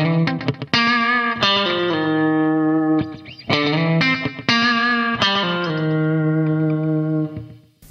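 Overdriven electric guitar plays an easy rock or country lick, a repeating phrase of picked notes with short hammer-on slides and ringing sustain, played alone at steady volume.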